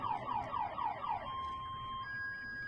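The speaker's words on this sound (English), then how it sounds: "I think that's actually his house alarm." A house alarm goes off with a rapid falling electronic whoop repeated about five times, then shifts into a steady high beeping tone, loud and close with no talk over it.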